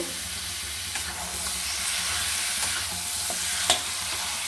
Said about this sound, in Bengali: চিকেনটা 1 কেজি চিকেন আছে বন্ধুরা, আমি এটা ভালো করে কষিয়ে নেব।